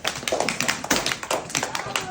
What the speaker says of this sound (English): Golf clap for the Ravens.